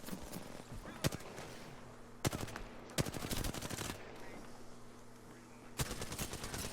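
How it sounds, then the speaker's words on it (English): Gunfire in an Xbox shooter, several loud sharp bursts of automatic fire with gaps between them, over a low steady game drone. "Opening fire on the enemy"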